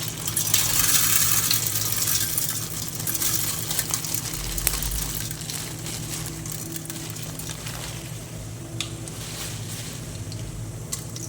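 Mustard seeds tossed into hot oil for a sankara fish curry (meen kulambu) give a steady broadband hiss dotted with small crackles and pops. It sounds close and continuous, with no talking.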